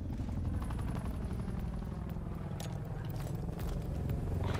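An exfil helicopter in the game Call of Duty: Black Ops Cold War thrums as a steady rotor chop under game noise, with brief sharp bursts and clatter over it.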